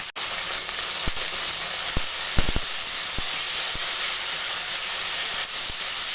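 Chopped tomato cooking in hot oil with bay leaf, turmeric and salt, a loud, steady hissing sizzle broken by a few faint ticks and taps.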